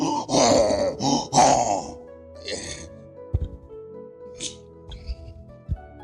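A voice imitates snoring with a couple of loud, rasping, throaty groans up close, followed by quieter scattered clicks and breaths.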